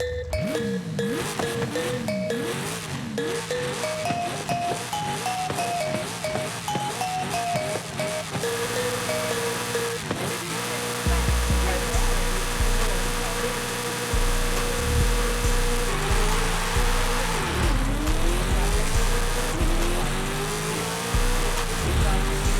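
Hennessey Venom GT supercar, a 1415-horsepower tuned machine, launches hard for a top speed run: a loud engine rises through repeated revving gear pulls, then a deep roaring surge of acceleration with tire noise continues steadily to the end.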